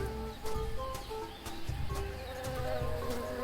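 Buzzing bee in the Tales of Monkey Island video game, a steady insect drone layered with tonal game music and soft repeated chirps, running continuously without speech.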